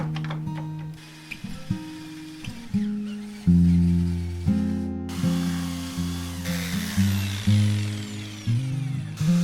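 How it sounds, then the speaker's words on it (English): A power drill fitted with a Forstner bit bores holes into solid wood for a chambered surfboard, its motor whining and changing pitch in repeated bursts as the bit bites and slows, close and steady. "I'm drilling holes with a Forstner bit and then connecting the holes with my jigsaw."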